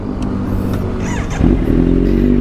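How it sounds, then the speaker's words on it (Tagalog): A motorcycle engine starting: a brief whirring crank followed by the engine catching and settling into a steady, close idle rumble. "tara, let's start natin itong motor"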